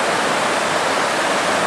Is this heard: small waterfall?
yes